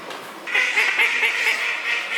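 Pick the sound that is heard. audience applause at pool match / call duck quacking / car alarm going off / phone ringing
call duck quacking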